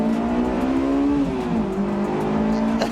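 A Honda S2000 VTEC engine revs hard up to 9,000 RPM, climbing to a high-pitched scream, loud and close, with a steady rising and falling whine throughout.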